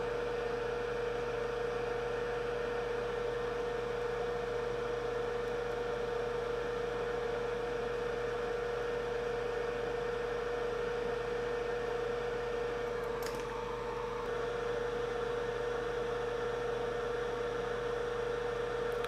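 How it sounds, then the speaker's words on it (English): A hot air rework station blows hot air onto an SSD during data recovery, a steady airy hiss over a constant electrical hum, unbroken and moderately loud throughout. "I'm gonna blow it in with the hot air."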